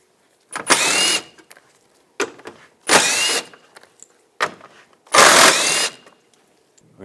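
A power tool with a 10mm socket removes the upper front bumper bracket bolts on a 2014-2018 GMC Sierra: four short, loud whirring bursts separated by brief pauses, each about half a second to a second long.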